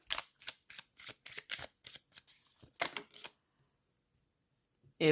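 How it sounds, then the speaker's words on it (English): Rapid riffle-shuffling of a deck of tarot or oracle cards, a quick series of crisp, close ruffling bursts that then gives way to near silence, with a faint tap at the very end. "I get a couple more shuffles in, and then I tell my guides I'm going to cut the deck"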